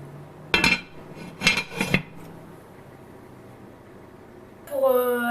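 A lid goes onto a pot of hachis parmentier filling with two or three quick metallic clinks close by, followed by quiet kitchen background and a voice starting to speak at the end.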